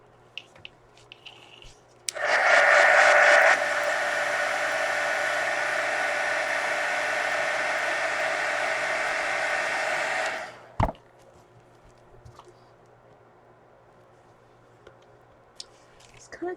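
A hair dryer drying paint on a mixed media art card roars steadily for about eight seconds, close and loud, then clicks off into quiet.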